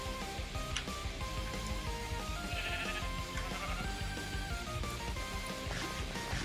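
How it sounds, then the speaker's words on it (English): Minecraft sheep bleat in the game over a steady, layered background of game music, with several short bleats near the start and middle. "Bighorn sheep."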